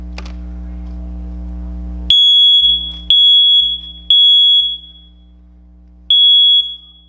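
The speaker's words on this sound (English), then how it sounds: "press the test button displayed on the smoke detector until you hear it beep" A standard GE smoke detector sounding loud, piercing test beeps, four long shrill tones with short gaps between them, after a low hum and a click.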